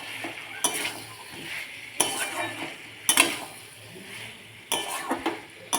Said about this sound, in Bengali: পকোড়াগুলো দিয়ে দিয়ে আমি একটু নাড়তে থাকবো